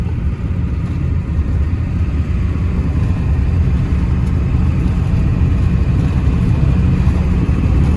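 Ford 7.3 Powerstroke diesel one-ton truck driving, a loud steady low engine rumble and road drone heard from inside the cab, with no clear break for a shift and no talking.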